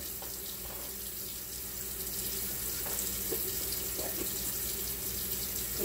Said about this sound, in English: Now I'm going to give it a cup of water, put a little bit more water in there.